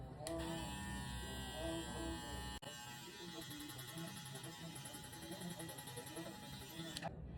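Electric hair clippers fitted with a 1.5 guard, fully open, run steadily while a mid drop fade is cut, giving a continuous close buzzing hum with a brief interruption partway through.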